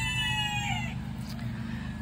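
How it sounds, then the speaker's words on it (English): A Polish rooster's loud crow rings out at the start and fades within the first second, leaving only a low steady background hum. "Now that was a Polish rooster. They're pretty loud."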